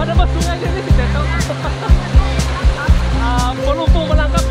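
A river near a homestay in Malangkap, flowing down from behind Mount Kinabalu, rushes with a steady broadband wash while voices talk over it throughout.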